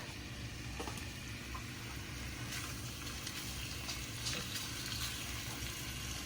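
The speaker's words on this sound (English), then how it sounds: "I'm going to cook my beef in this skillet" Cut-up beef pieces cooking in an oiled skillet give a steady, faint sizzle and crackle, continuous throughout with a few soft clinks and no talking.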